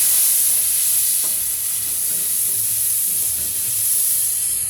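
Tomato sautéing with turmeric in a pan gives a steady, close hiss of frying, fairly loud and unbroken, with faint stirring under it and no voices.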